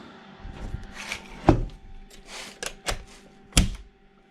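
A homemade egg incubator lid is handled and shut, giving a series of sharp wooden knocks and thunks, with two louder bangs standing out among lighter clattering taps in a quiet room.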